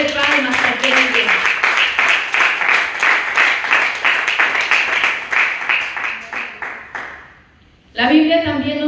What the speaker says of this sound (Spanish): Denle una ofrenda de palmas a aquel día.